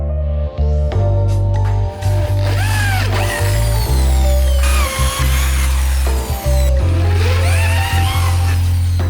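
Power drill boring holes for climbing holds in a wooden wall panel, loud close whine with pitch dipping and rising under load, in several long passes with brief pauses.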